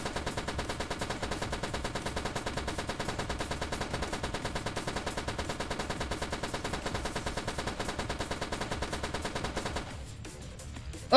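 Rapid, continuous automatic gunfire from a video game rattles on steadily and loudly for about ten seconds, then cuts off abruptly into near silence.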